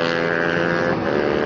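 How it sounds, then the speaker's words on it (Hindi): A loud, steady exhaust roar from motorcycles riding together, including an Apache RR310, held continuously and close with some wind buffeting on the microphone and no talk. "दोनों बाइक इतना ज़्यादा लाउड है, लेकिन सबसे ज़्यादा लाउड है RR 310"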